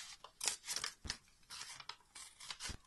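Scissors snipping through paper while cutting out insect shapes for a collage, a run of close, crisp separate snips and crunches with short pauses as the paper is turned.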